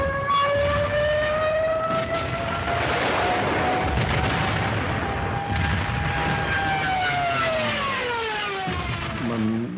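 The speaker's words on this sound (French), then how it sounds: "les sirènes des Stuka qui retentissaient lors de la descente en piqué de l'avion" A long wailing Stuka dive bomber siren, sounding as the plane dives, rises and falls slowly over a dense roar of engines and rumbling explosions, loud and continuous.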